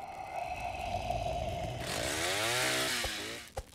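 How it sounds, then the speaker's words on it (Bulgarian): Chainsaw in the Roblox game 99 Nights in the Forest, a steady buzzing engine that rises into a revving whine and cuts off with a few clattering knocks, loud and close. "Аз използвам резачката, ват."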